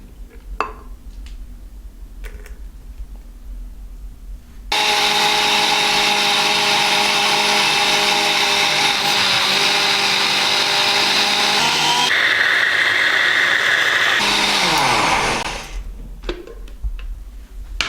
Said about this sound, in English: pour this also into my blender and then blend for 1 to 2 minutes on a high speed